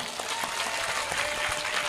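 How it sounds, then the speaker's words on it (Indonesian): Short burst of audience clapping at a weekend religious study gathering, dense and even for under two seconds, fairly close, with no speech over it. "Tepuk tangan dulu dong."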